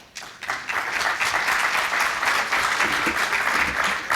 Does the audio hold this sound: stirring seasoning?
no